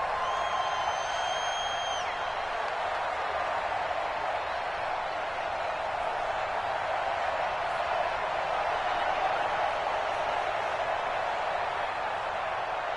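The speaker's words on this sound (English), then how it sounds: "The crowd here in the Dome making things difficult." Crowd noise inside a domed stadium in a football video game, a steady, dense roar that holds evenly throughout, with no clear cheers or voices standing out.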